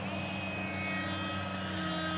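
Steady droning whine of an RC Extra 300 model airplane's engine at half throttle during a spin, a constant tonal buzz with a few faint higher blips, heard continuously and fairly loud.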